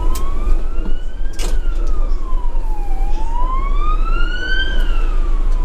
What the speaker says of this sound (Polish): karetka, nie karetka, policja pojechała.